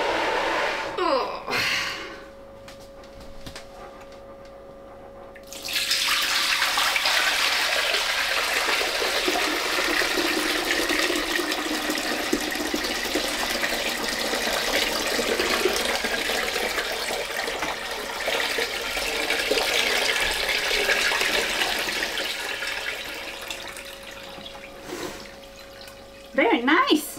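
Homemade elderflower wine poured through a strainer, a steady rushing trickle of liquid that starts after a few seconds and runs on for about twenty seconds, close and even, with a brief quiet stretch before it and a soft tail at the end.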